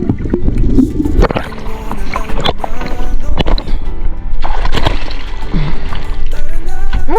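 A fishing boat out on the open sea off a Philippine reef, with a steady, loud rush of engine and water that stays continuous throughout and has no talking over it.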